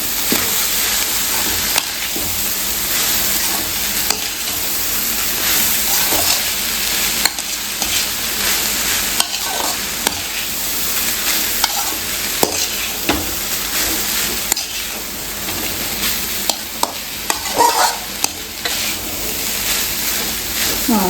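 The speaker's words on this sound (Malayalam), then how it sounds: "ഇനി നമുക്ക് നന്നായിട്ട് പുറത്തോട്ട് സോയാ സോസും കൂടെ നമുക്ക് ഒഴിച്ചു കൊടുക്കാം" Soy sauce goes into a hot frying pan and is stirred through, a steady close sizzle with scraping stir strokes running throughout, no voices.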